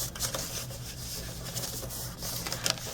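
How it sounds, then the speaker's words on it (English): Paper for a gift box is folded and creased along its score lines, making soft, close rubbing and rustling that continues faintly for a few seconds. "And then fold up your score lines."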